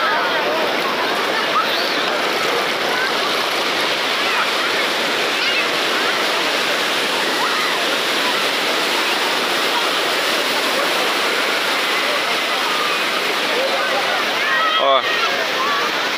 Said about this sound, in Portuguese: Então é normal a onda vir um pouco mais alta